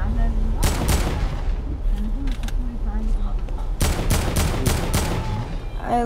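AK assault rifle fire in the Fortnite video game comes as two loud rapid bursts of sharp cracks, one early and one longer later, over game noise and a faint voice.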